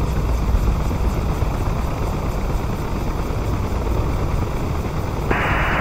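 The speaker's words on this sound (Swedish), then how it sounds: "Räddning 3 tar rotorn från vänteläget." A rescue helicopter's rotor spins up from standby, a loud, steady engine roar and whine close by, with a harsher higher tone joining near the end.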